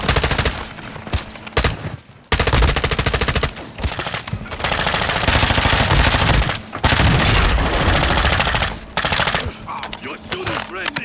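Sustained automatic rifle fire from an M4 in Call of Duty Warzone, loud near bursts running almost continuously with brief gaps, while a voice talks over the shooting.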